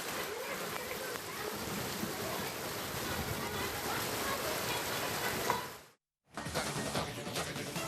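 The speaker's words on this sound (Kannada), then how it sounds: "1 ಗಂಟೆಗೂ ಹೆಚ್ಚು ಕಾಲ ಗುಡುಗು ಸಹಿತ ಮಳೆಯಾಗಿದೆ ಅನೇಕ ಕಡೆಗಳಲ್ಲಿ" Heavy summer rain during a thunderstorm in Belagavi, a steady dense hiss of downpour filling the scene, broken by a short cut near the end before resuming.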